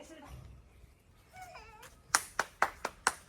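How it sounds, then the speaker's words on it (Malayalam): A small group of people clapping hands, about six sharp separate claps in a quick rhythm at the end, following a short stretch of quiet voices indoors. "അതെ കൈയടിച്ച് പ്രോത്സാഹിപ്പിക്കാം"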